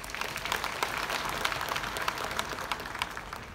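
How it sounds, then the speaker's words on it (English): Audience applause at the Nigerian National Honours Awards ceremony, a steady, moderately faint wash of clapping that continues evenly throughout. "Let's give them a round"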